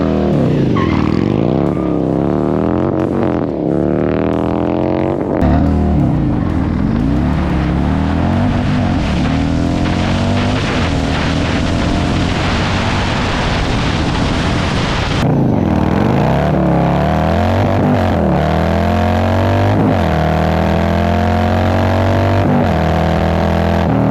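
Cammed and tuned 2024 Harley-Davidson Road Glide roaring through a dyno run with traction control on, a loud, close engine climbing through revs in sweeping pulls with gear changes, then dropping to a rumbling idle near the end.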